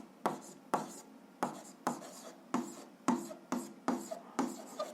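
A pen scratches across paper while a graph is drawn for a seventh-grade algebra exercise, in about nine short, evenly paced strokes, each a crisp scrape that fades quickly, close and quiet with no talk.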